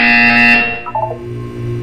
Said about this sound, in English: You will hear a buzzer.